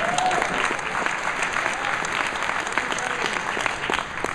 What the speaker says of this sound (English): That was a total sympathy clap.